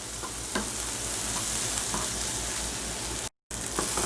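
Vegetables for a tofu scramble saute in a pan over medium heat, giving a steady close sizzle with faint stirring scrapes. A brief dropout cuts the sound near the end.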